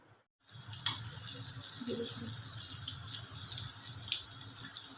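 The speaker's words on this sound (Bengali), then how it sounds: "জিরে, লঙ্কা, তেজপাতা ফোড়ন দেওয়া হলো।" Cumin, chili and bay leaf sizzle in hot oil in a home kitchen while mung dal with papaya is being cooked, a steady close crackle with a few sharper pops and a faint stir of a utensil.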